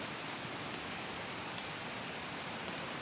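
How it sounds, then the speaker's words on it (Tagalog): Strong floodwater rushes through the river at Magpet, a steady broadband roar heard from some distance, unbroken and fairly soft, with no voices. "So ingani kakusog ang baha diri."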